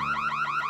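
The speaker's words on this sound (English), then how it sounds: "Rats, who set that alarm off?" Alarm going off in the video game Marvel Super Heroes 3, a loud rising-and-falling electronic whoop that repeats in quick regular cycles, heard alone.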